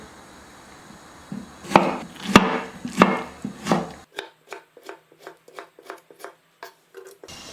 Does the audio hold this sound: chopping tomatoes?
yes